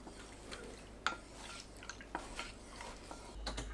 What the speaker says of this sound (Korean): 냄비에 진간장 250ml, 멸치액젓 40ml, 물 420ml 넣고 섞어주세요.